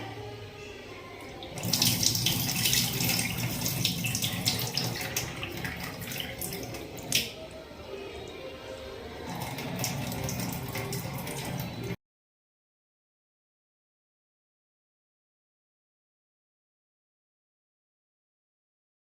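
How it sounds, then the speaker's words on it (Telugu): Soaking water is poured off broken wheat, a close running splash and trickle lasting about ten seconds with a few sharp clinks, then silence. "ఇప్పుడు ఈ నీళ్ళని వంపేసుకొని కుక్కర్లో పెట్టేసుకుందాం."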